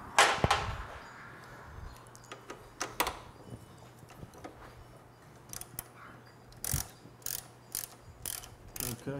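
Bolts being tightened with hand tools while fitting a Wiskybilt Rider's Rest hammock hitch, giving short metallic ratcheting clicks and clanks in irregular bursts, close by, with quiet gaps between.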